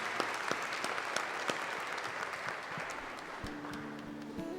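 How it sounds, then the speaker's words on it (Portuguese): Congregation applause fills a church during a Catholic Mass right after the Gospel reading: dense, steady clapping from many hands at moderate volume, sustained throughout without talk. "Podemos aplaudir a palavra de Deus."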